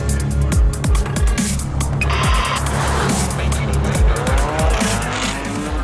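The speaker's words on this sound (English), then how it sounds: "this new Drive-E engine has already been tested on the racetrack" A race car powered by a Volvo Drive-E engine tears around a racetrack, its engine note rising and dropping through rapid gear changes, with squealing tires and loud, close, continuous roaring throughout.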